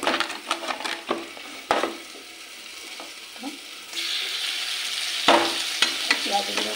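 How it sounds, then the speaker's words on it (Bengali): Onions fry in a pan with a continuous sizzle, punctuated by several utensil scrapes and clacks against the pan, loud and close, with the hiss swelling louder in the second half. "এখানে এই যে পেঁয়াজ ভাজা হচ্ছে"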